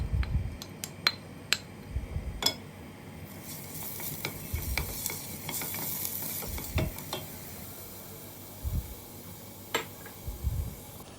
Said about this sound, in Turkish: 4-5 yemek kaşığı kadar sıvı yağ kullandım. Soğanlarımızı ekliyorum.